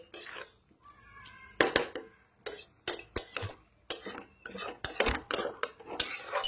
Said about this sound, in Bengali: ভালো করে নাড়াতে হবে, বাঁধাকপিটাকে নাড়িয়ে চাড়িয়ে।